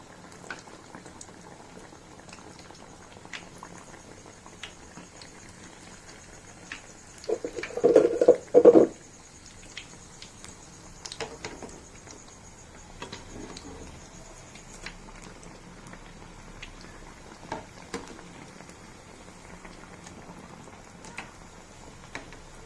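Vada frying in hot oil: a faint steady bubbling sizzle throughout, with one louder burst of crackling spatter as batter drops in, close by with no talking.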